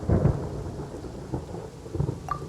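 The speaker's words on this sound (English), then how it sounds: "Paimon hears thunder!" Rumbling thunder in the Genshin Impact video game, a low rolling boom that swells in bursts over steady storm rain, with no voices.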